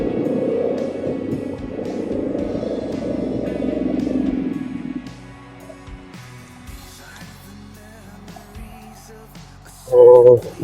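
A Royal Enfield Himalayan 450 motorcycle rides in Bhutan with a steady, moderately loud engine drone for about five seconds, then fades to a quieter rumble with a brief louder burst near the end.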